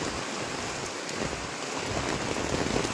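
Steady heavy rain falls on a waterlogged street in Pallitheruvu, a dense, continuous hiss of drops hitting pooled water, loud and unbroken throughout.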